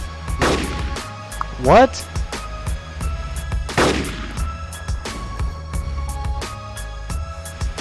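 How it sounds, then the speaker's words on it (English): Long-range sniper rifle shots in the video game DayZ, a few loud booming reports with echoing tails spaced a couple of seconds apart, with a brief spoken question between them. "What are you shooting at? I shoot at him."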